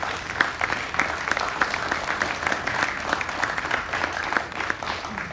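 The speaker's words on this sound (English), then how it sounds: "Let's give him a big round of applause." Audience applause greeting the Mayor Pro Tem at a city event, a steady wash of many hands clapping that holds at an even level throughout, with faint voices mixed in.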